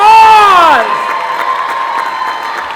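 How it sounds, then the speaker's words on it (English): At a high school sports Hall of Fame ceremony, a crowd breaks into cheering and clapping for the inductees, rising after a brief sustained tonal sound and holding as a moderate, even roar. "How about a big round of applause?"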